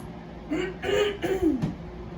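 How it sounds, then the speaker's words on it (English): A woman clears her throat in a few short, soft rasping bursts spread over about a second, quiet and close with no talking. "Let me get some water and clear my throat."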